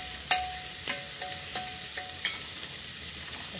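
Chopped onion sizzles and fries in the bottom of a pressure cooker, a steady close crackle with a few soft clicks and taps of a utensil, and no talking.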